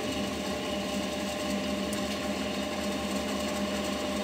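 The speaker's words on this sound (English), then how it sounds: "So let's test the little microgenerator." Small micro generator spinning under a 3.5-ohm light bulb load, giving a steady, continuous mechanical whir and hum like a small sewing-machine motor, close and unchanging throughout.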